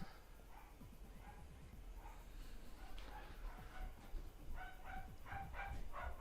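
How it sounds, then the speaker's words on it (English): A dog gives a run of quick, faint barks and yips that come in short groups and grow a little more frequent toward the end, heard at a distance in a quiet room. "Sorry about the dog."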